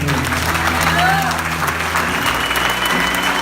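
A church congregation claps loudly for several seconds in a lively burst of applause, with a voice and some tonal sound mixed underneath, sustained evenly throughout.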